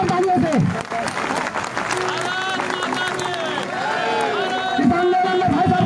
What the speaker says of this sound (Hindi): एक बार जोरदार तालियों से भाई साहब का स्वागत करेंगे